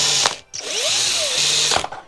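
Power drill boring into a cheap Intel Celeron laptop case, two loud whirring bursts, the second longer, separated by a short pause, close and alone with no talk.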